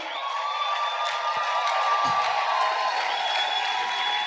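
Church congregation during a French-language service, acclaiming the Lord with a sustained wash of cheering, whoops and crowd noise at steady volume, a held tone running underneath throughout.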